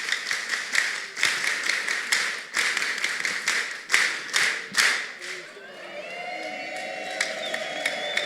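A church congregation keeps up rhythmic clapping and crowd noise, then breaks into sustained high-pitched ululation in praise, a wavering chorus of voices filling the room.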